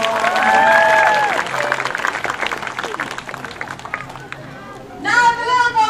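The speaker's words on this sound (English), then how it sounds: "So if everybody could please give him a huge round of applause." A crowd at a sea lion show in a safari park claps and cheers in a dense, sustained burst, fading briefly before a fresh swell of applause, with a voice heard over it at the start.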